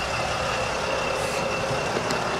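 A 2009 Mercedes Sprinter van idles with a low, even, quiet engine hum and a constant faint whine, steady throughout with no voices.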